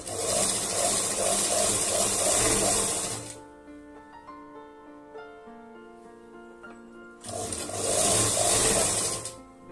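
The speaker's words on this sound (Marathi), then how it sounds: "अशा प्रकारे अस्तरचा कपडा फोल्ड करून मग इथे दाब शिलाई एक देऊन घ्यायची आहे" Sewing machine top-stitching folded lining fabric on a lace-trimmed blouse, two loud close bursts of fast whirring at the start and end with a quiet pause between them.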